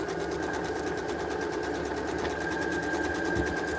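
A sewing machine runs steadily and continuously for a few seconds, a dense mechanical whir with a fast, even stitching rhythm and no talking, used for making a quilt.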